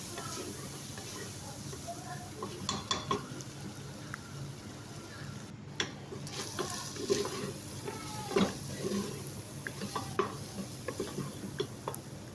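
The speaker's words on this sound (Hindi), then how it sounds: "अच्छे से मसाला भून जाएगा इसमें कीमे के साथ। चम्मच इसमें चलाते रहेंगे।" A spoon stirs keema mince frying with masala in a pan, with a soft continuous sizzle, scraping strokes and occasional clinks of metal against the pot throughout.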